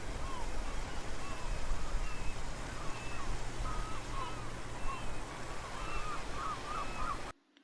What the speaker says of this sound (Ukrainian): Спочатку послухаємо звуки моря.